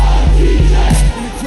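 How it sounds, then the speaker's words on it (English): A loud crowd roars in a cheering burst over a thumping low beat, the sustained noise dropping slightly near the end. "And the crowd goes"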